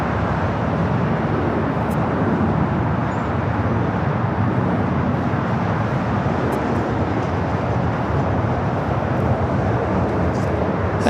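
An EVA Air Boeing 787-9 Dreamliner at LAX produces a steady, loud jet-engine roar that fills the whole stretch without break, heard alone with no clear talking.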